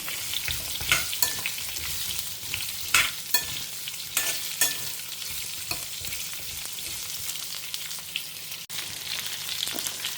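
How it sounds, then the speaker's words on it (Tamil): Pumpkin pieces sautéing in a pan for pumpkin moong dal sambar, a steady bright sizzle broken by several sharp scrapes and clinks of a stirring spoon, close and fairly loud, with no talking. "காய் கொஞ்சமாக வதங்கட்டும்"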